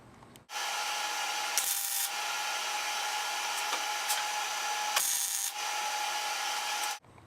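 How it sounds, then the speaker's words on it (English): Steady electric buzzing hum of a welder tack welding a bung onto a motorcycle gas tank, running for several seconds, broken by brief crackling bursts where the arc spikes, then cutting off abruptly. "now I'm going to tack weld it in and make sure it's set for its final position"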